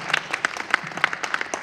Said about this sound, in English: Give a round of applause for Agent Griffin.